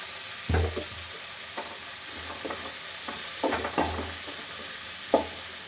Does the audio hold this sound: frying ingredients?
yes